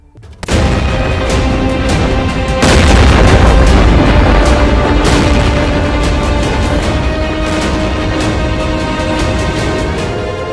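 Bombs burst during Israeli strikes on the Gaza Strip, a loud onset followed by a second heavy boom and long rolling rumble, with scattered sharp cracks and pops continuing throughout.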